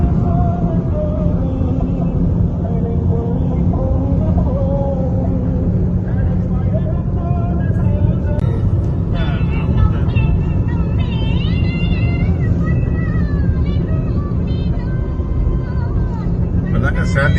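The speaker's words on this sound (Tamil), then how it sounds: "அந்த வழியா கார் போயிட்டு இருக்கு" Car driving through a valley on a road trip from San Diego to Los Angeles, a loud steady low rumble of engine and road noise heard from inside, with voices talking over it.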